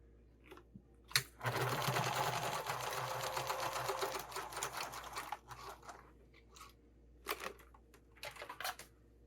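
A home sewing machine runs a zigzag stitch on a sling strap, with a steady mechanical whir of a few seconds followed by short stop-start bursts and clicks.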